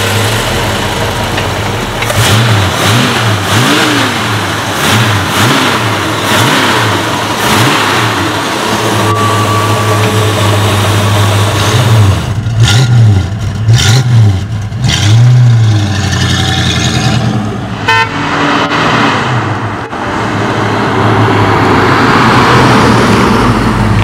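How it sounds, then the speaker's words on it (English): A 1965 Ford Mustang GT A Code coupe with its classic V8 revs and pulls away, the engine loud and close, rising and falling through repeated accelerations and gear changes, with rumbling road and wind noise as it drives. "Let's go for a ride in this little 65A Code GT."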